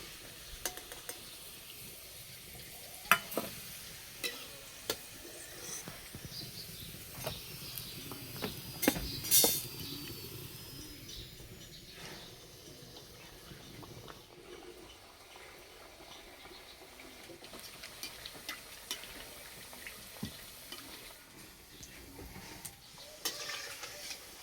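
Chickpea sattu kachoris fry in hot oil with a quiet, continuous sizzle and bubbling, broken by occasional sharp clinks and scrapes of a utensil stirring and turning them, close and fairly faint, with no talking.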